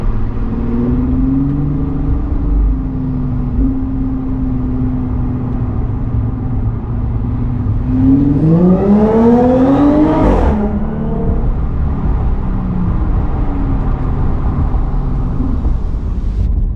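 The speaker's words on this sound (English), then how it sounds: "This exhaust is really, really loud." Loud exhaust of an Audi S4 with an AWE Tuning Touring exhaust droning steadily, then revving up sharply and dropping back, echoing in an enclosed underpass.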